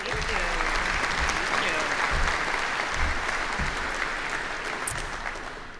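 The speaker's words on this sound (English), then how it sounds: "Let's give her a round of applause as well." A commencement audience at the SUNY Oswego May 2024 School of Business ceremony applauds. The clapping is sustained, even and moderately loud, filling a large hall without letting up.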